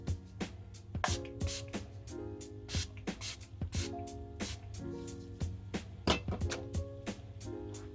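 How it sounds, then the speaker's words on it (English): Makeup setting spray hisses in quick short bursts that repeat, fairly faint and close, with some light clicks between them. "we're going to spray it again with the setting spray"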